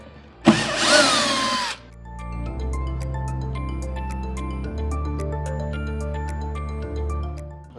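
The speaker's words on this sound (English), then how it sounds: "I'm not using impact with this because I don't like using impact with wood screws so much because they tend to strip out" A power drill drives wood screws into wooden shelving, starting with a loud, short rasping burst, then a steady close whine that slows and pitches down in stages as the screw seats, with small clicks over the top.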